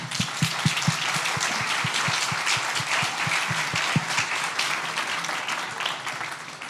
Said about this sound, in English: Can I ask for a round of applause for you guys?